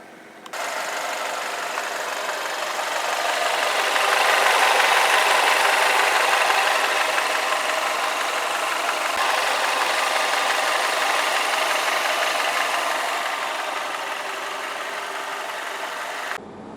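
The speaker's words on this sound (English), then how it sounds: "This is the A250 petrol engine," The petrol engine of a 2019 Mercedes A250 AMG idles close by. It gives a steady, even hum for about seventeen seconds that swells slightly in the middle, with no talk over it.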